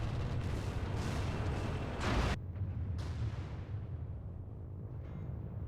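Heavy explosions from Stuka dive bombers destroying German artillery in the World War II strategy game Order of War: deep rumbling blasts roll on, peak in one big burst, then die away into a fading rumble, and a second, softer boom follows.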